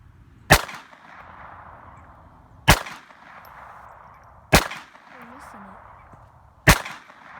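Four sharp, evenly spaced gunshots from a Walther P22Q pistol, each a crisp crack with a short ringing tail, heard at moderate distance with quiet gaps between shots.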